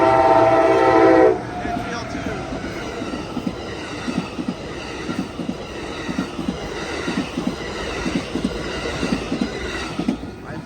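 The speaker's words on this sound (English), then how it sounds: "That train is going southbound to Los Angeles." An Amtrak Coast Starlight passenger train, Train #11 heading southbound, passes the Fruitvale Ave crossing in Oakland, its loud horn blaring briefly at the start before giving way to a steady rhythmic clatter of wheels over rail joints.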